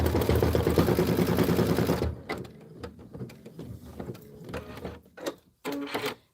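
Embroidery machine stitching out linen, a dense, loud mechanical whir for about two seconds, then stops, followed by scattered clicks and handling knocks nearby.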